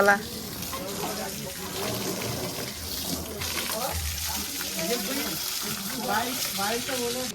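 Steady rushing water spray from washing vehicles with shampoo water runs throughout, with some background voices and clatter mixed in beneath it.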